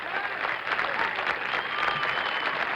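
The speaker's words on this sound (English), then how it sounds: "No wonder he gets a good cheer." A golf gallery at the 1976 US Open applauds and cheers, a dense, steady wash of clapping from a sizable crowd that holds at an even level for a few seconds.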